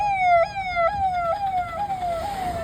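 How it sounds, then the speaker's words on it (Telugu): A loud electronic forest department siren repeatedly sweeps in rising and falling wails, heard close and alone without speech. "సో అందుకే ఫారెస్ట్ వాళ్ళు అలా సైరన్ వేస్తూ ఉంటారు"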